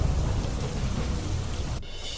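A heavy monsoon downpour in South Gujarat produces a dense, steady roaring hiss of rain that cuts off abruptly near the end.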